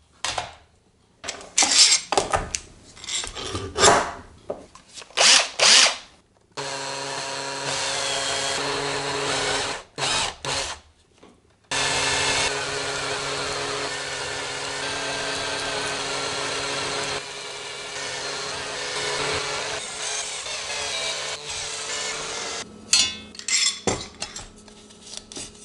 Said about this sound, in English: you can use one of these conical step drill bits